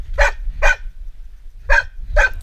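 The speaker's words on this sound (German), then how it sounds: "Diese Hunde sind richtige Kläffer." Rescue dogs from a search-and-rescue team barking, four sharp close barks in two pairs with a short pause between, loud and without talk.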